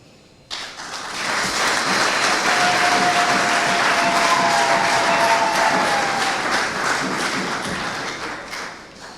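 Sustained audience applause at a ceremony honouring a family, a dense wash of clapping that starts abruptly and holds steady for several seconds before thinning slightly.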